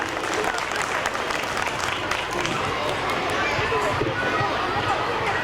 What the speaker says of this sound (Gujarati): આપણે જોરદાર તાળીઓથી એમને વધાવતા રહીશું.